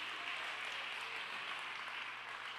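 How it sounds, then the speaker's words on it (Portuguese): Church congregation applauding during a worship service, a steady, dense wash of clapping from many hands at a moderate distance, continuous and even throughout with no voices standing out. "Uma salva de palmas para Cristo Jesus."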